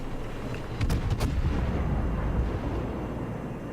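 Des Moines cruiser in World of Warships firing high explosive shells in rapid succession, a cluster of close booming gun blasts over a continuous low rumble of battle noise, with no talk.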